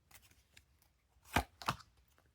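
A tarot deck is cut by hand during a reading: two crisp, close card slaps or snaps about a third of a second apart, over faint earlier shuffling rustles.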